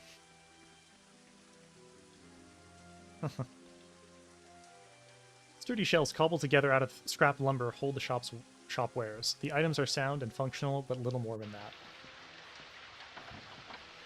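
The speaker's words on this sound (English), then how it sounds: "I like that you can hear the rain pouring outside." Steady rain pours outside in the video game Daggerfall, a faint continuous patter under game music, with a narrator reading a shop description over it.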